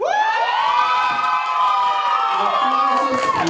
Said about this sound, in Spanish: aplausos para la pareja de Lalo